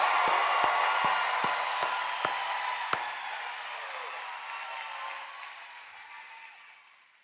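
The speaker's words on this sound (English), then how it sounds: "Audience members, let's give them a big round of applause." Audience applause for university graduates at a commencement ceremony in Orlando, a broad wash of clapping from a large crowd that swells early and then gradually fades away, with a few sharp thumps near the start.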